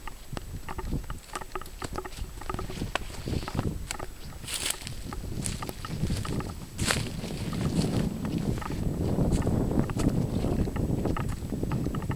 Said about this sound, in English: we have some wind up here